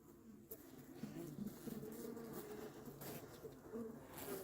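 Honeybees buzzing around frames pulled from a hive while equipment is being winterized outdoors, a steady low drone running throughout at moderate distance, with faint bird cooing in the background.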